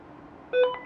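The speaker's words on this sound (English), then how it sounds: "when the radio unkeys, you always hear the courtesy beep" Courtesy beep from an FRS two-way radio as it unkeys, a single short electronic tone sounding briefly over faint static.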